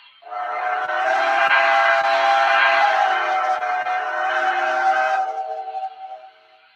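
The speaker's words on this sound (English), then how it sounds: "here is the whistle I installed" Whistle of a model 2-8-0 steam locomotive, played from an MTH sound file: one long steady multi-tone blast lasting about five seconds, clear and fairly loud, then fading out.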